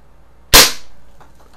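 One sharp, close crack from a Daisy Powerline 1200 CO2 BB pistol fired at targets, with a short fading tail and a faint small knock about half a second later in an otherwise quiet space.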